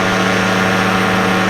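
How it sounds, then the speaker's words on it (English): A Rotex 587 65-horsepower two-stroke aircraft engine on a powered paraglider trike, heard as a loud, close, unbroken droning buzz with a steady pitch throughout. "It has a Rotex 587 on it, which is a 65 horsepower two-stroke aircraft engine."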